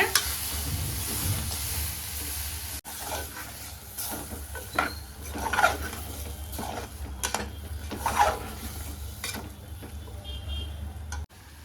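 Vegetables, including chopped capsicum, sizzle steadily in a pan while a utensil scrapes and stirs them in irregular strokes, fairly close and moderately quiet.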